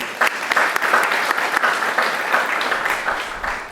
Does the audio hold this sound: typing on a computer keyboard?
no